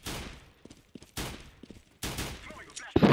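Gunfire in a tactical team shooter during a competitive playoff match, with sharp close shots in three clustered bursts, scattered smaller pops between them and a loud volley at the end.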